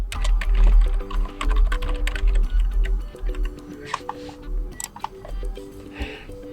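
Password typed on a computer keyboard while resetting an iPhone 15 Pro, a quick run of light, close key taps over steady background music.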